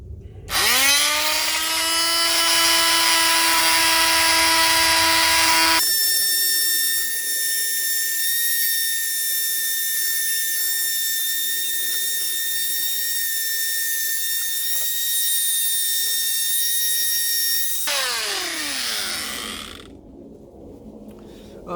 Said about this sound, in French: on va utiliser la ponceuse de Jérémy qui marche à l'électricité nucléaire